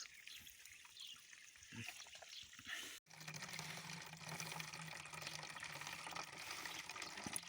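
Groundwater trickles and splashes from a pipe in a steady, continuous stream close by, starting quieter and growing fuller after a brief break, in a forest.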